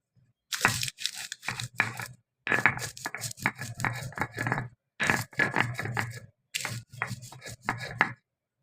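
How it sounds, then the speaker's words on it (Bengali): Fried dried red chillies pounded and ground on a flat grinding stone, in loud repeated rhythmic crunching strokes grouped into four bursts separated by short pauses, close and alone. "এখন শিলপাতায় বেটে নেব প্রথমে শুকনো মরিচ ভাজি বেটে নেবো"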